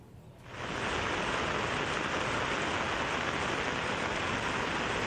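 Heavy downpour in Karauli, Rajasthan, a steady, dense roar of rain that swells in after a quiet half-second and then holds loud and unbroken with no talk over it.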